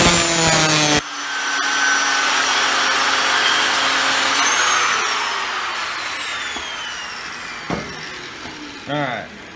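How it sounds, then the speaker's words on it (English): An angle grinder with no guard fitted cuts metal during a hybrid DeWalt–Milwaukee build, a loud steady whine that starts abruptly after a second and holds for most of the clip, with a short tool noise near the end. "Running that there grinder with no guard."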